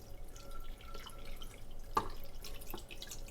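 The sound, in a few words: water dripping through OXO cold brew maker rainmaker into coffee grounds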